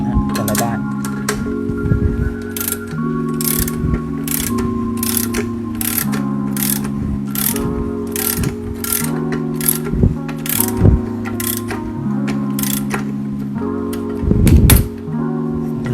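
Spring compressor being twisted on a Toyota Vios Gen 3 front shock absorber, giving a run of rapid ratcheting clicks and metallic mechanical turning at close range with steady bursts and a louder thump near the end.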